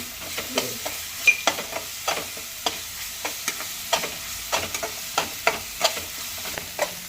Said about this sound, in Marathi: लसूण वगैरे, मिरची, कोथिंबीर आणि अद्रक घेतलं होतं, ती पेस्ट परतवून घेऊया